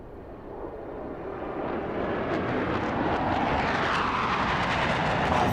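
Boom Supersonic XB-1 jet flyby in the Microsoft Flight Simulator 2024 video game, a broad roaring rush that steadily builds in loudness as the aircraft approaches.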